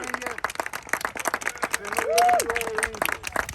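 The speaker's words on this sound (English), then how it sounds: "They're so excited for clapping." Crowd applause and clapping after a United States Cavalry company performs a sabre salute at an outdoor event, sustained hand claps under a commander's shouted voice and nearby chatter.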